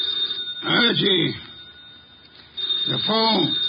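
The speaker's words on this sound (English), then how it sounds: "The phone." An old telephone bell rings steadily in a 1950 radio detective drama. The thin, sustained ringing continues beneath a voice speaking in two short bursts.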